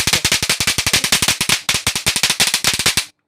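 Electronic eco-friendly Diwali firecracker lights, a remote-operated string sold at a wholesale decoration market in Delhi, fire off a loud, rapid run of sharp crackling pops that stutters to a brief pause and then resumes before stopping abruptly.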